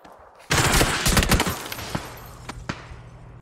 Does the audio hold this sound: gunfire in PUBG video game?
yes